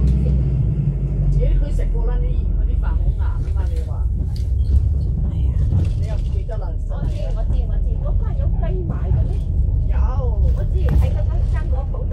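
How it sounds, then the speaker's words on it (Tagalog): A car engine rumbles low and steady while it drives in at Repulse Bay beach, Hong Kong, with people talking over it throughout. "Papasok dito ang aming sasakyan."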